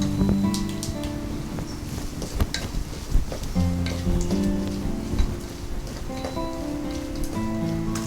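Turmeric stirred into a pan while making pepper duck, giving a continuous, close crackle and patter with a few sharper ticks and brief scrapes, no voices.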